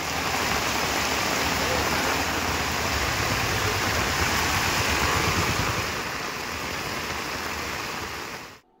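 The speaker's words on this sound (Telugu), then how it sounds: "జగిత్యాలలో తెల్లవారుజాము నుంచి వర్షం పడుతోంది" Heavy rain pours down in Jagtial, Telangana, where moderate to heavy rainfall has been falling since early morning. A dense, steady hiss and roar runs unbroken through the clip, easing slightly toward the end, with no voices.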